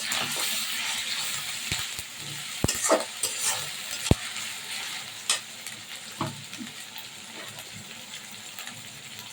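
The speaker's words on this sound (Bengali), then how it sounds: "মশলা কষানো হবে।" Spices for a head meat curry stir-fry in a hot pan, giving a steady sizzle with scattered scraping and clinking of a spatula, close and moderately loud, and no talking.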